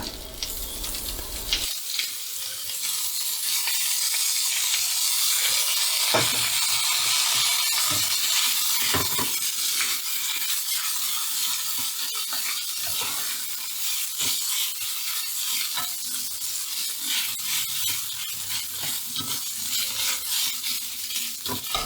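Fried rice stir-fried with soy sauce in a pan on a gas stove set up in a vehicle, a loud steady sizzle with scraping stirs running close and continuous for the whole stretch, no talking.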